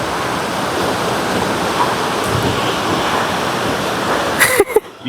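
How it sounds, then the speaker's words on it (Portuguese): A waterfall of crystal-clear water in a canyon in Albania, a steady loud rushing roar filling the air throughout, with a few brief knocks and handling noises near the end. "temos aqui esta cascata, água muito cristalina"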